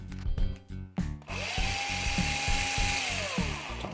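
A power drill spins up with a rising whine, holds a steady high-pitched tone for about two seconds, then winds down. Rhythmic knocking sounds come before it.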